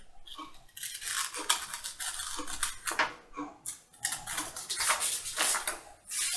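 Scissors cutting along the front neckline of a fabric garment pattern, with repeated crisp snipping and sliding strokes close by, coming in irregular bursts over most of the stretch with no talk.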